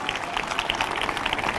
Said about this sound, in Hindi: जिनको ये बात समझ में आ चुकी है वो ताली बजाकर धन्यवाद दे रहे हैं